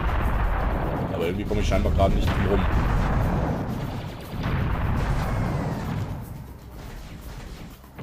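Heavy gunfire and explosive blasts from the Serious Sam first-person shooter video game, dense and loud throughout with a brief dip midway, while someone speaks over the action.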